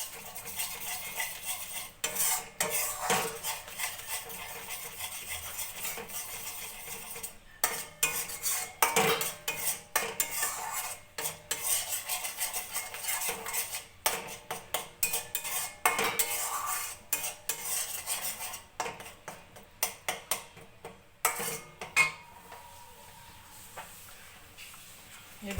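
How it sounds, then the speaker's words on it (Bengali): A spoon or spatula scrapes and clatters against a pan while a restaurant-style shahi paneer masala with yogurt is stirred, producing irregular bursts of metallic knocks and scraping with a faint sizzle underneath. "এই 1 চামচ মতন দই দিয়ে দিলাম। এবার ভালো করে কষাবো।"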